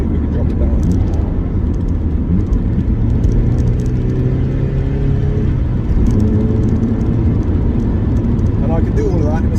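A Mazda MX-5 engine and exhaust drone steadily through the cabin while downshifting, a continuous low rumble with shifting tonal revs, loud and close, with a voice talking over it.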